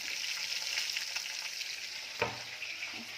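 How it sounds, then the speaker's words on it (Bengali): A dish with garam masala slowly sautéing and stirred in a pan, a steady close hiss of frying with one sharper scrape or stir partway through, no talking. "স্লো করে একটু ছাঁচতে থাকবো, কষা করবো"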